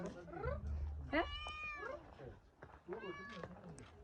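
A cat meows several times in drawn-out, rising and falling cries, close by and fairly clear.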